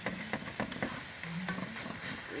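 Helencha leafy greens fry in a pan with a low, steady sizzle broken by light stirring clicks and scrapes.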